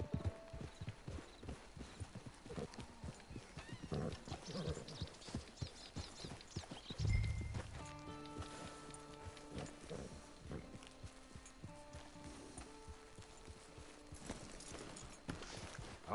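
Hooves clip-clop steadily on the ground in Red Dead Redemption 2, a horse walking at an even rhythm with a brief snort or whinny partway through, set against quiet in-game ambience and music.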